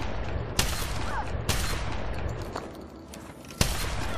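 Enemy gunfire in the video game Fallout 3, a few sharp distant shots spaced out over a low steady rumble of ambience, fairly faint overall.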